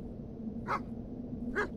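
Dog in a video game giving two short, soft barks or yips about a second apart, fairly faint over a steady low background hum.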